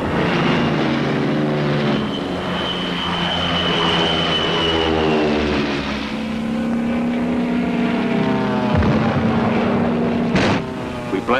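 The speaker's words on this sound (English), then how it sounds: "Thunderbolts take off from our new field." Thunderbolt fighter planes take off from a newly built Pacific airfield near Tanapag Harbor during the wartime campaign, with a loud, continuous propeller roar whose pitch rises and falls as they pass.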